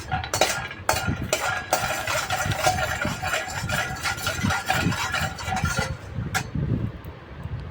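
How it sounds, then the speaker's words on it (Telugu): Peanuts being dry-fried and stirred in a pan, with continuous scraping and rattling of the utensil against the metal and light clatter, close and fairly loud, no talking. "ముందుగా అయితే ప్యాన్ తీసుకొని దాంట్లో అయితే ఫస్ట్ పల్లీలు అయితే ఫ్రై చేసుకోవాలి"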